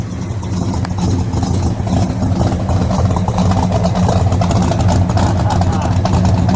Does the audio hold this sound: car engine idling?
yes